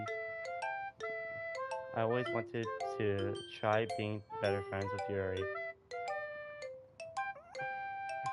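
A phone rings in the Doki Doki Literature Club game, a melodic chiming tone that repeats in clear bursts around a person talking over the middle of it.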